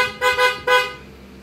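A Honda PCX 160 scooter horn sounds loud and close in three quick honks, the last one held slightly longer, with no voices.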